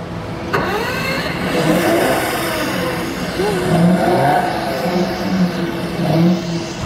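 A Ferrari engine at the Ferrari park in Abu Dhabi revs loudly and continuously, its pitch sweeping up and down in repeated surges, with voices faintly underneath.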